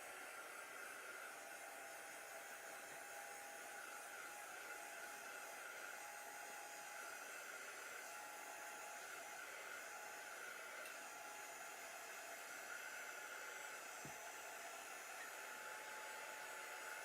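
A handheld heat tool blows continuously for the whole stretch while drying chalk paint, a steady, even hiss-like whoosh alone with no voices.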